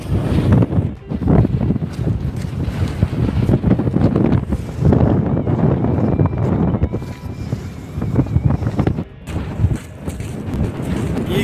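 Strong desert wind in Saudi Arabia buffets the microphone in loud, uneven gusts, roaring and rising and falling across the whole stretch with no clear talk.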